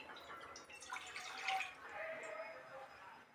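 Water pours and splashes into a bowl of poha close by, a short trickling stream that swells and then tapers off.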